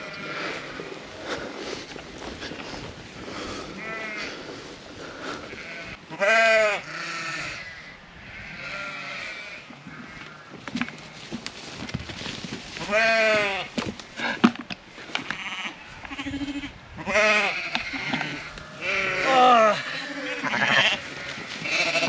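Sheep on a farm bleat repeatedly, several wavering calls spread across the scene, some close and loud, others fainter, with footsteps and shuffling around them.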